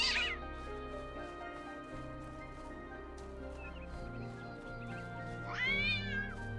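A cat meows twice in a game world, a bright mew at the very start and a longer rising-falling meow near the end, over a steady ambient game music bed with no talking.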